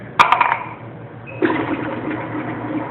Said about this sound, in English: I'm gonna put it on speed 3. So eggs go in, sugar goes in.